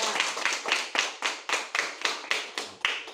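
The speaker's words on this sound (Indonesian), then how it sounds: "tepuk tangan dulu ya" Classroom group claps in unison, about a dozen evenly spaced, rhythmic claps at moderate volume, heard clearly with no talking over them.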